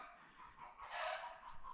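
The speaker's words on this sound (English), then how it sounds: "Apologies for the chicken noises." Hens squawk and cluck in agitation after one has laid an egg, a noisy, fairly close burst of overlapping calls that swells midway, with no talking.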